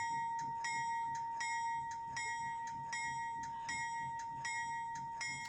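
A GP40-P2 locomotive's bell rings steadily with evenly spaced metallic strikes over a constant tone and a low background rumble, with no talking.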